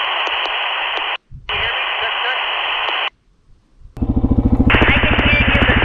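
A Bluetooth radio link in the woods, about three quarters of a mile out, drops in and out: bursts of hissing static cut off abruptly with silent gaps, then a louder buzzing, pulsing crackle of breaking-up transmission.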